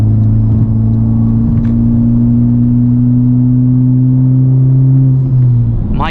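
Honda Civic Type R with a PRL intercooler, exhaust droning loudly under steady acceleration toward 3,500 RPM, a sustained close, resonant engine tone that eases off near the end.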